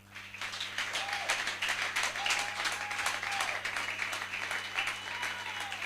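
A congregation at a church campaign gathering applauds, steady dense clapping filling the room throughout, with faint voices and a few sung or called tones rising over it.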